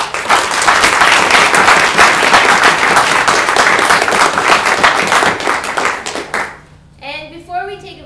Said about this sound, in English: So if we can just give them a round of applause.